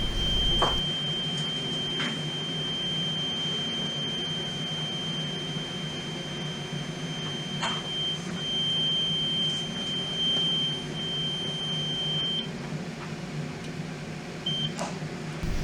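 A smoke detector head alarm beeps with a steady high-pitched tone, broken by a few short chirps, over a constant low machine hum.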